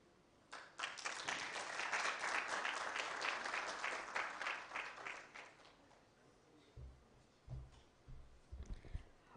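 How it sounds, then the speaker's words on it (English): Audience applause at the launch of an annual national shadow budget publication, a dense burst of clapping that swells for several seconds then fades, followed by scattered low thumps and murmurs. "One more round of applause"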